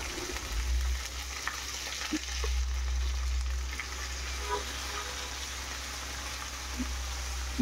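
Vegetables sizzle and crackle in a hot wok, a constant frying hiss with small pops, over a low steady hum.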